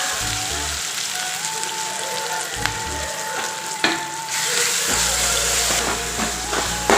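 Mustard seeds, cumin and dried chili fry in hot oil for a Tamil buttermilk curry, crackling and sizzling continuously at close range, with sharp pops and a brief louder burst of frying partway through.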